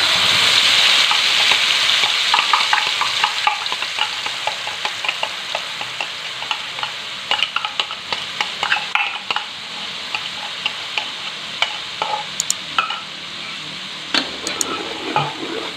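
Ground spice paste drops into hot vegetable oil with a loud initial sizzle that settles into steady frying hiss, broken by intermittent scraping stirs and clicks of a utensil, close and with no voices.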